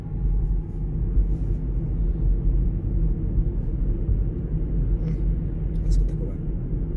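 A Ford Mustang Mach-E driving in whisper mode gives a low, steady rumble of road and cabin noise, with a person murmuring softly over it.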